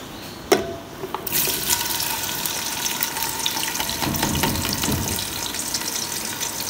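Onions frying in hot oil inside a pressure cooker, a steady close hiss and sizzle with dense crackling that starts after a sharp clink and continues loud throughout.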